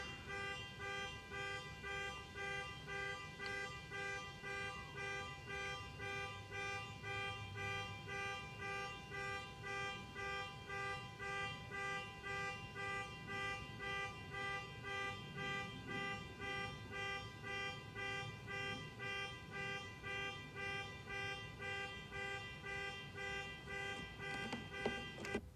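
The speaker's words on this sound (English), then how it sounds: "I guess it's car alarm." A car alarm outside, faint and distant, repeating a steady pulsing tone pattern throughout.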